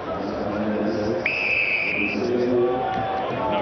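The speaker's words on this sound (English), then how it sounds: "Loud blast of the whistle, not releasing on the deck." A referee's whistle at a Dubai Rugby Sevens match involving Portugal gives one sharp, sustained blast of about a second, cutting clearly above the steady roar of the stadium crowd.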